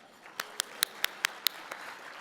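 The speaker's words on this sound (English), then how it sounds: "But at least we can do a clap" Sparse, hesitant claps from a small number of people at a conference lunch, about seven sharp slaps in a quick irregular run, moderately close over a quiet room murmur.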